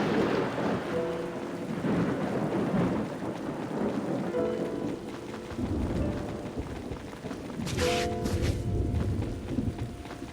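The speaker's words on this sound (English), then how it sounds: "I hope there won't be any more thunder" Heavy rain pours steadily in the video game Tales of Xillia 2 while thunder rumbles low and long, with a sharper crackling thunderclap near the end, all without speech.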